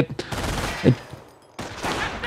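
MG42 machine gun fire in a Company of Heroes tournament match, bursts of rapid shots in two clusters with a brief lull between, mixed with other battle noise.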